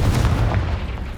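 Heavy blast from the Confringo spell in Hogwarts Legacy: a loud, near explosion with a thick low-end thump and rumbling decay, no voices over it.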